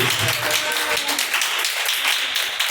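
A church congregation claps together during a live Portuguese-language worship service: a dense, steady wash of many hands filling the room for a few seconds without any voice over it.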